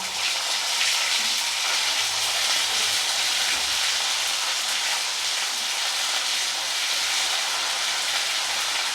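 Cumin paste and whole shahi cumin sizzling as they fry in a pan for a Bengali mutton and poppy seed kosha, a steady close hiss with no talk.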